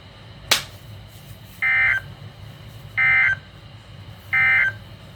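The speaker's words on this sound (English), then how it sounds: "This has been a test of the NOAA Weather Radio public warning alarm system." Three identical loud electronic tone bursts of an emergency alert from NOAA Weather Radio, evenly spaced, each about a third of a second, after a sharp click over a low background hum.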